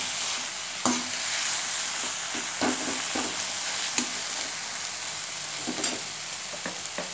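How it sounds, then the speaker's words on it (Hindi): Sprouts coated in sauce stirred in a pan over steady sizzling, with sharp scraping strokes of a spoon every second or so, close and clear, no talking. "अब हमें इसे अच्छे से मिक्स करना है।"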